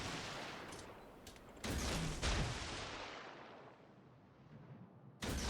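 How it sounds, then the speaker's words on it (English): Torpedoes launched from a warship in World of Warships: Legends, a heavy booming burst that swells and slowly fades, then a second burst hits right at the end; no talk. "I'm just about to fire torpedoes at him."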